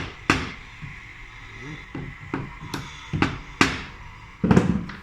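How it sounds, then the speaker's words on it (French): Several light hammer taps on a wooden stair nosing during fabrication of a composite-stringer staircase, sharp isolated knocks spaced irregularly, close and moderately loud, with faint workshop movement between them. "Un petit coup de marteau."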